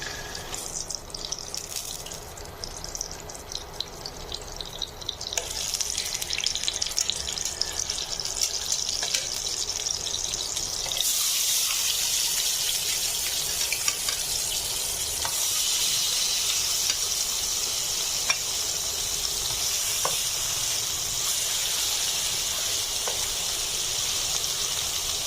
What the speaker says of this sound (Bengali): এবার আমি মাছগুলো একটু ভেজে নেব।